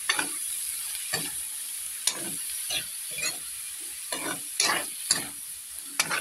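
String beans (sitaw) stirred in a sizzling pan, a utensil scraping in repeated irregular strokes over a steady frying hiss, close and alone with no voices.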